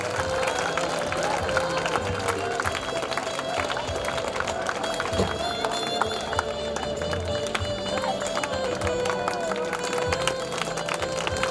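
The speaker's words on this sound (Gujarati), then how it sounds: "પિયુષભાઈ માટે જોરદાર તાળીઓ પાડીશું મિત્રો." An audience at a school function applauds an honoured guest: vigorous, continuous clapping from a large crowd, sustained and loud, with a faint tonal hum running underneath.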